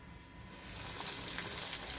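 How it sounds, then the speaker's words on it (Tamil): Potato bites frying in hot oil, heard as a close, continuous sizzle that swells after the first moment and holds steady, with no voices. "ஸோ இப்போ ஒவ்வொன்றா இதில் போட்டு பொறிச்சு எடுத்துடலாம்."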